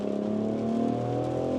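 A 2025 BMW X3 M50 engine hums and rises smoothly in pitch as the car drives briskly, a steady close drone with no talking.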